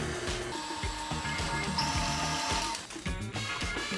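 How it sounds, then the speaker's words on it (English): An electric mixer with a whisk attachment whirs steadily through banana bread batter, with a rhythmic churning and rattling beat under the motor hum. "I'm gonna add my whisk attachment and give it a stir."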